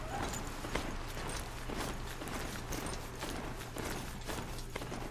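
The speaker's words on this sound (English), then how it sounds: "People should look out for somebody riding a robot horse." Robot horse from the video game Horizon Zero Dawn trotting along, a faint run of clip-clopping hoof falls mixed with mechanical clicks and whirs, steady and rhythmic against a soft game ambience.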